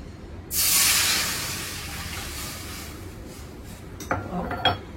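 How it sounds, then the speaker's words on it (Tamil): Water poured into a hot kadai while making kesari payasam hits with a sudden loud sizzling hiss that slowly fades, followed by a few metallic clinks of utensils against the pan. "தண்ணி கொஞ்சம் ஊற்றிக்கிறேன் கடாயில்."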